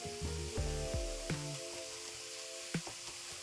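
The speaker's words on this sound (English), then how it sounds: "for about the last minute for the cabbage, I'm just gonna cook it uncovered" Cabbage fries uncovered in oil over high heat with a soft steady sizzle. Intermittent clatter and taps from a utensil against the pan punctuate it, and no one speaks.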